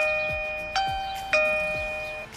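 A Blurams smart video doorbell plays its electronic ding-dong chime after its button is pressed: two bright, ringing tones struck in quick succession that sustain and decay over a couple of seconds, loud and close, with no talking.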